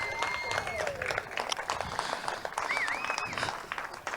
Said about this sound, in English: Let's get a round of applause, please, for second place, George House on the podium.